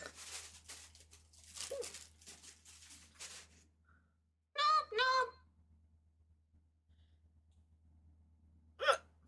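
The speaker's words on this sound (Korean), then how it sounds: "나 그냥 가끔씩 이렇게 딸꾹질 혼자 해." A livestreamer talks briefly, then hiccups: a pair of sharp, close hiccups in quick succession, followed by a single one a few seconds later against a low background hum.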